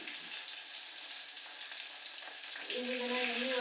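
Mustard seeds, cumin, garlic and curry leaves frying in hot oil give a dense, even sizzle that swells louder near the end. The sound is close, with no talk over it.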